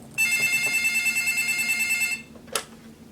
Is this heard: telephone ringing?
yes